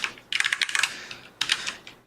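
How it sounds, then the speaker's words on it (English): Fast typing on a computer keyboard while writing compiler code, two rapid flurries of crisp clicking keys close to the microphone separated by a short pause. "Am I typing too fast?"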